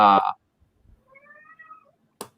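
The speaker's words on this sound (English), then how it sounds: "He said his cat's in heat." A cat in heat gives one drawn-out, rising and falling meow at close range, set between a loud burst of voice at the start and a short thump at the end.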